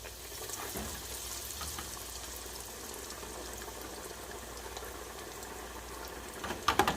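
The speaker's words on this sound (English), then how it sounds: "Look at that just frying away." Breadcrumb-coated hand fruit pies bubble and sizzle in hot oil with a steady, faint fizzing hiss, then a brief clatter near the end.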